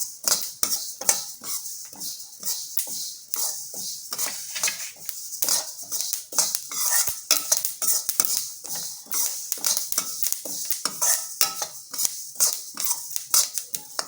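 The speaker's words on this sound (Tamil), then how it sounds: "எள்ளு நல்லா பொரிஞ்சு வரும், அதுதான் அது வறுபட்டதுன்னு அர்த்தம்." Sesame seeds are stirred and roasted in a pan over a slow flame, giving a continuous run of crisp scraping, rattling and light popping crackles, close and fairly quiet.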